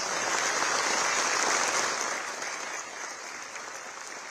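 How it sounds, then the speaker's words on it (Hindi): A crowd applauds with dense, sustained clapping that gradually thins out and softens toward the end. "तालियां बजती रहें।"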